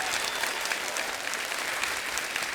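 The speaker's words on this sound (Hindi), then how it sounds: "जोरदार तालियां हो जाए हमारे मेहमानों के लिए" A studio audience at a comedy talk show gives a hearty round of applause for the guests, Chris Gayle among them, a thick, even wash of clapping sustained throughout.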